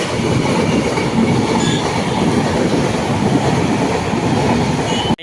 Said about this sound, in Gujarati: ટ્રેન ચાલી